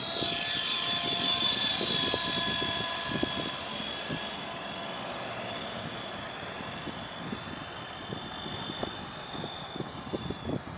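A helicopter's rotor and engine drone steadily overhead, loud at first and slowly fading as it moves away.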